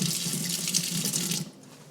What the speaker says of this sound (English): keep doing this, emptying it into the sink until it is clean